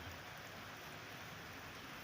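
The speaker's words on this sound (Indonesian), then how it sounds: "aduh hujan" Steady rain falls on a surface at a half-built construction site, a dense, even hiss filling the short stretch without any voices.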